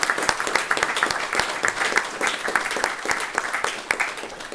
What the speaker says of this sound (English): giving yourself a round of applause